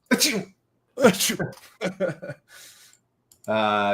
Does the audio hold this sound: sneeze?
yes